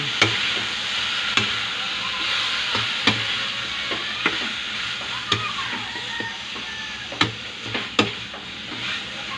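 Pork sautéed in a pan for sinigang, a steady sizzle of frying with repeated sharp ticks and clacks from the spatula against the pan at irregular intervals, close and continuous.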